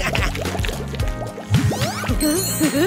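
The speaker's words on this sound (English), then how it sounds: "But we might need a quick shower." Shower water runs and drips over a toy balloon craft, a steady liquid spatter with squishy splashes mixed under a bright musical backing.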